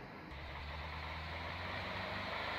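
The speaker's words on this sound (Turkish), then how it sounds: "Araba geliyor." A car approaches in a video game, its engine a low, steady drone that swells slowly louder over a couple of seconds, with no voices.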